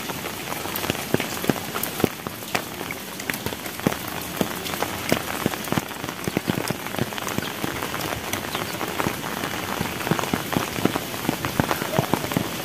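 Steady rain falls in a rural village, pattering densely and evenly on surfaces nearby. Scattered sharper drops stand out from the constant wash of rain throughout.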